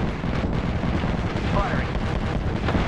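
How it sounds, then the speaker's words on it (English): Knuckle cluster grenade explosions in Apex Legends give a dense, continuous, rumbling burst of blasts that fills the whole moment loudly, with no clear gaps. "Deploying the knuckle cluster."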